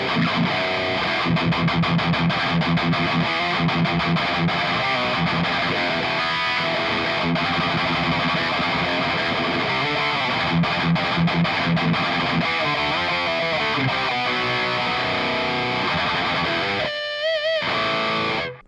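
Heavily distorted metal electric guitar played through a CHUCK tube amp by underdog with digital effects, dense chugging riffs, loud and close, with a brief stuttering break near the end.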